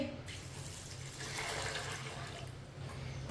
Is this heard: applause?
no